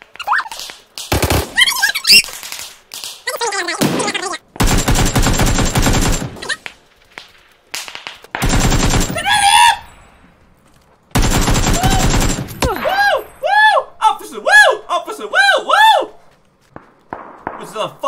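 Automatic gunfire in the battle-royale video game PUBG, several long loud bursts of rapid shots separated by pauses, mixed with footsteps and a player's shouted talking.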